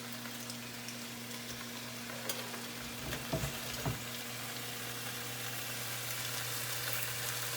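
Bacon slices sizzle steadily in a pan without oil for a sweet onion pie, a constant close frying hiss with a few soft clinks of the slices being spread out midway; no one speaks.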